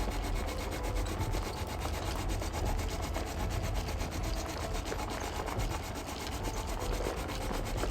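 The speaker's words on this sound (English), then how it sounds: "Wait, so it's digging out iron?" A digging machine working in the video game Hammerting, a continuous rough grinding, scraping drone with a faint rapid repeating texture, steady and moderately loud throughout with no talking.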